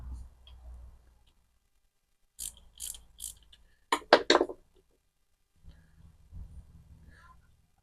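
A protective guard being screwed onto a 4-inch angle grinder gives a few bursts of ratcheting, clicking mechanical turns, fairly close, separated by quiet pauses, with a faint low rumble at the end.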